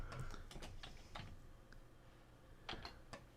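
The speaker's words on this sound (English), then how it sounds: "I hear Alan typing." Faint, scattered keystrokes on a computer keyboard, a few quick clicks at a time with short pauses between them, close by in a quiet room.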